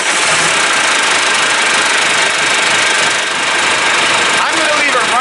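A John Deere tractor engine, just fitted with a block heater, runs steadily with a loud, dense clattering drone, close by and unbroken for the whole stretch.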